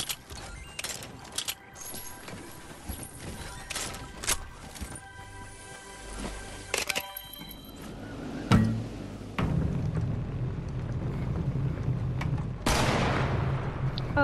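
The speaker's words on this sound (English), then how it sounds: "Oh, they sniped at me." Gunfire from the Fortnite video game, including sniper shots, rings out in sharp, scattered cracks of varying loudness over a busy game backdrop, with voices speaking now and then.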